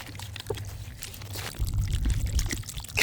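Water gushing from a burst water main beneath a shopping centre, a steady pouring rush that grows louder and heavier partway through, with a few drips and splashes close by and no voices.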